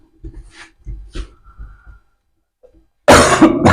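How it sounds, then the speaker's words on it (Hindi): A burst of harsh coughing erupts near the end, loud and close, after a stretch of quieter low sounds and a pause of silence. "थोड़ा सा तबीयत डाउन है, खांसी आ रहा है"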